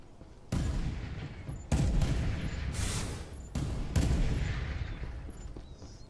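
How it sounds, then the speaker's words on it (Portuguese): Gunfire in the video game Farlight 84: three long, loud bursts of rapid shooting, each cutting in abruptly and running for a couple of seconds, with short quieter gaps between them. "tá um tiro"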